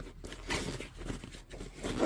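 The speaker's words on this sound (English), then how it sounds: "Double zippers." The double zippers on a hunting pack are drawn along in a run of quiet, rasping scrapes close by, with short pauses between pulls.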